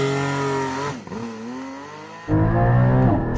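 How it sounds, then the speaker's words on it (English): A 2022 Porsche Cayman GT4 with PDK gearbox revs hard and launches, its loud engine note climbing in pitch, dropping briefly around a shift or lift, then surging again close by with no talking. "It's dead easy to launch because it's a Porsche, just lift on the brake, full the throttle. All the revs."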